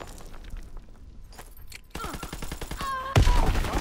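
Rapid gunfire from an StG assault rifle in Call of Duty: WWII on the snowy Carentan map, a dense burst of close shots building to a louder volley at the end, with distant shots and game effects beneath.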